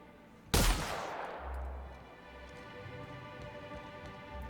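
A single loud rifle shot in The Outer Worlds cracks sharply and rings out into a long fading tail, followed by low rumbling background noise.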